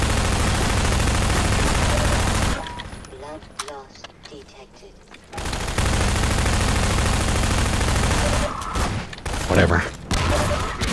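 Guns firing in the video game Half-Life 2, with dense bursts of loud automatic gunfire that fill most of the stretch. A short quieter gap comes before the shooting resumes.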